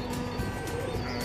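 Pet pigeons in a loft, a breeding pair kept since 2012 with two chicks, cooing softly amid a dense, noisy background hum.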